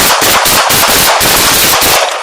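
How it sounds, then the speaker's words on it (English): Rapid volleys of gunfire during a police shootout in Los Angeles, captured on a body camera, burst after burst cracking loud and close with brief gaps, then the firing stops abruptly. "The partner officer returned fire."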